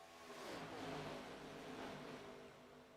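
Gen 4 stock cars racing at Daytona in the iRacing video game produce a faint engine roar that swells as the pack passes and then gradually fades, with no talking.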